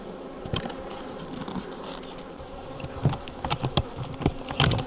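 Honey bees buzzing around open hives during a honey inspection, a steady faint drone with occasional handling knocks and clicks from the hive work.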